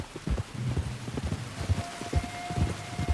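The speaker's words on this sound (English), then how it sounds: "You were right about the damn rain." Rain falling in the open-world western video game Red Dead Redemption 2, a steady patter of drops on surfaces with low rumbling underneath, continuous and fairly close, no talking.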